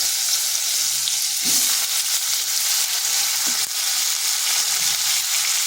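Potato pieces frying in a pan with red chilli and bay leaf over medium heat, a steady dense sizzle throughout, broken by a couple of soft stirring scrapes.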